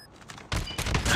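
Shots and bursts of gunfire in a first-person video game shooter with a bomb-defusal mode, a few loud, sharp reports piling together in the second half over low game ambience.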